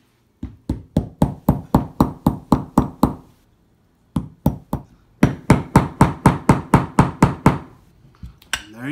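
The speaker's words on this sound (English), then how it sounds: "Once you get a proper piece though, then you can simply find a center spot on it and hammer it in." Metal hammer blows drive a copper piece into a pressure flaker handle for flintknapping: two runs of sharp, evenly spaced strikes, about ten in each, loud and close, with a short pause between them.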